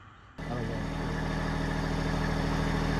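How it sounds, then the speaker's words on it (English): A farm tractor's engine starts up and settles into a loud, steady idle with a low, even throb that continues uninterrupted after a quiet opening moment. "I'm going to get my tractor and a chain, and I'll lift it up off there."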